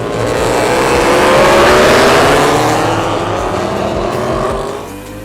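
Race cars roar past on a racing circuit, a loud continuous engine drone that swells and slowly fades as they go by, with no one talking.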